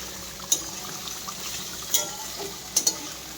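Meat fries in a pan in a home kitchen, giving a steady, close sizzle broken by a few sharp clinks of stirring.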